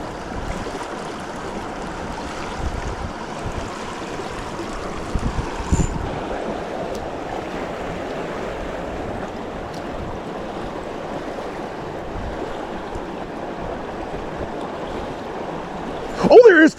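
Creek water flows steadily through a remote desert stream, a continuous rushing wash with wind noise, ending in a brief louder splash or handling sound near the close.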